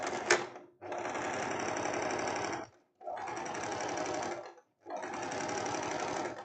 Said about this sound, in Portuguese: agora eu vou costurar a parte do decote